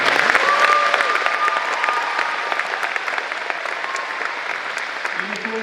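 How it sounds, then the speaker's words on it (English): Sustained applause from an event crowd at a Military Appreciation Day gathering after the national anthem, loud at first and gradually easing, with a voice briefly heard near the end. "Can a round of applause?"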